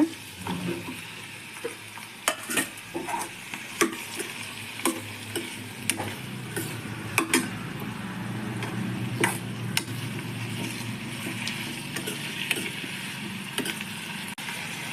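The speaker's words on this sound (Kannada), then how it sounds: "ಟೊಮೆಟೊ ಈರುಳ್ಳಿ ಎಲ್ಲ ಚೆನ್ನಾಗಿ ಫ್ರೈ ಆಗಿದೆ" Tomato and onion fry in a pan for shahi paneer, a steady sizzle broken by repeated spoon clinks and scrapes from frequent stirring, with no voices.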